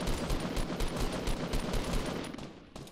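Rapid, loud bursts of gunfire ring out in a video game firefight, a dense run of repeated shots that tails off at the end, with no talking.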